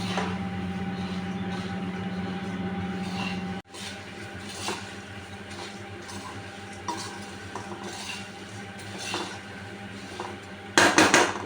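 Puffed rice (murmura) being stirred in a hot kadhai, a faint continuous scraping and rustle with occasional metallic clinks of the spoon against the pan, no talking.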